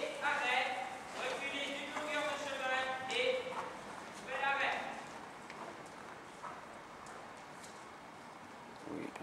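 A horse's hooves canter in rhythmic bursts on an arena surface during a dressage test, moderately near and fading toward the end, with a voice talking over them.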